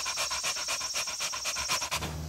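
A dog panting steadily, rapid rhythmic breaths close up and fairly loud, continuing without pause.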